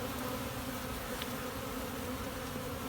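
Honey bees from a newly installed package hum steadily around an open hive, a close, continuous buzzing drone with no voices over it.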